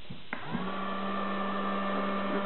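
A small nail varnish dryer from a water marbling nail art kit switches on with a click and then runs as a steady, faint electric whirring hum with a constant tone.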